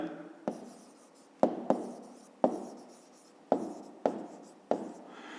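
Pen writing out a math solution on paper, six or seven distinct quick scratching strokes, each with a sharp start and fading tail, close and fairly quiet with pauses between.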